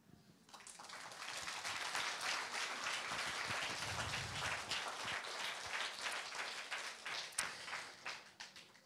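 A live audience at a Norwegian literature event applauds, steady clapping building quickly and holding nearly nine seconds, close and full, with a few louder individual claps near the end.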